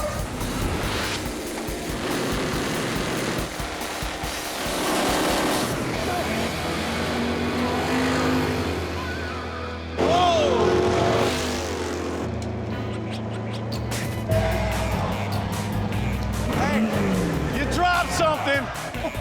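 Four-wide drag racing cars at ZMax Dragway, heavy engine roar and rumble rising and falling with pass-by surges, mixed under steady commentary talk.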